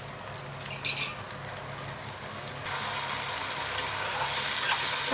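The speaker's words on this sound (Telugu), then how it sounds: "పచ్చి వాసన పోయేదాకా ఈ నూనెలో ఏగనివ్వాలండి" Ginger and garlic fry in hot oil in a pan with a soft, steady sizzle that grows louder and denser partway through after a few light clinks, with no voices.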